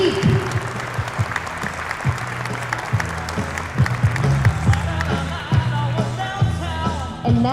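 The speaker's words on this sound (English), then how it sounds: "Another round of applause for General Gary Cheek." Sustained audience applause at a JROTC national air rifle championship banquet honoring General Gary Cheek, steady dense clapping from a large seated crowd with music playing underneath throughout.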